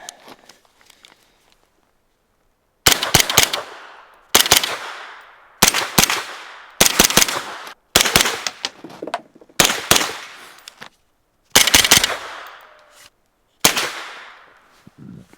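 Shots from a Foxtrot Mike rifle ring out as seven or eight loud, sharp reports spaced a second or two apart, each with a short decaying echo, after near silence at the start.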